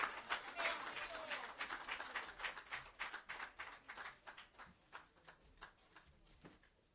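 At a social housing handover ceremony on Allamanda Avenue, Tower Hill, a crowd claps in a burst of applause that starts dense and thins into scattered, fading claps over several seconds.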